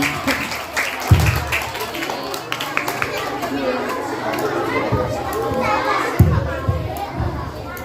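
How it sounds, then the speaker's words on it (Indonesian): A classroom of Islamic primary school children clapping and cheering in a lively burst, loud and close, with excited kids' chatter and voices mixed throughout. "tepuk tangan."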